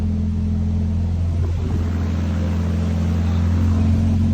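Honda K-series engine swapped into a Porsche 911, running loud and steady on a dyno with a deep, even drone and strong low tones that hold without pause.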